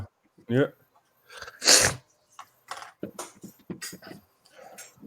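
A single sharp sneeze, close and loud, followed by scattered light clicks and brief talk in a room.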